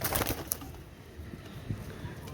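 Pakistani teddy pigeons coo softly and fairly close by, with low, throaty calls repeating over light background noise.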